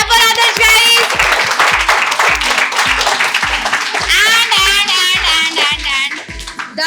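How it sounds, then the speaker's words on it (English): Students in a batch clap for a classmate named top speaker at a felicitation ceremony, a steady run of close, loud applause with a strong rhythmic beat, while a voice speaks and music plays over it. "Clap for Adarsh, guys."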